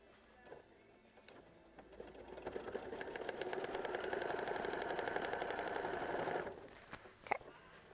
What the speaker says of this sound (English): we're going to sew machine stitch step 12 to tack it down